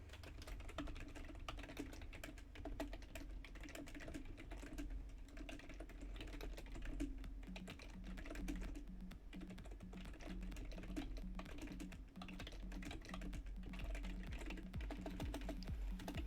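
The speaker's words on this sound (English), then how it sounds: "I can't talk and type at the same time" Fast typing on a computer keyboard during a Back 4 Blood gaming session, with continuous soft key clicks close to the microphone and no talking.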